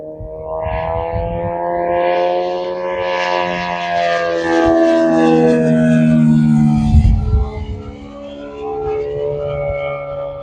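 A Top RC F4U Corsair model plane with a DLE 222 gas engine and a Vela 32x18 three-blade propeller drones loudly overhead, its buzzing engine note rising and falling in pitch as it flies past.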